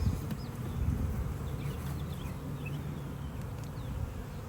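Honeybees buzz steadily around an open hive during an inspection, a dense, continuous droning swarm close by with no talking over it.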